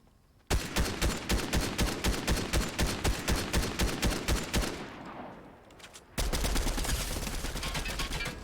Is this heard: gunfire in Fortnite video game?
yes